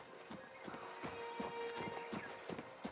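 Horse hooves clip-clop at a steady walking rhythm in the video game Oblivion Remastered, a close series of hollow thuds at low level.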